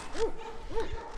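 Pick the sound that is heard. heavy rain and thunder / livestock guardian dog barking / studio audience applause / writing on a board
livestock guardian dog barking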